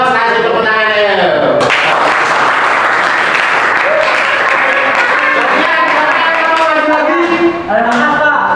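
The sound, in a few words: applause in a classroom quiz game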